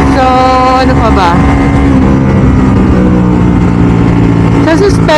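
A Ducati Multistrada V4 RS sport motorcycle engine drones loudly while riding, its pitch rising and falling with brief revs, with wind noise and some talking over it.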